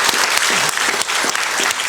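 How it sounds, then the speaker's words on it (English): An audience at a talk applauds in a brief, dense, continuous burst of clapping from many hands, loud and filling the room without pause. "That was a cheap fishing for applause."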